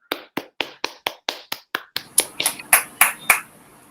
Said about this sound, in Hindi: प्राथमिक तथा पूर्व प्राथमिक विभाग के लिए एक बार जोरदार तालियां हो जाए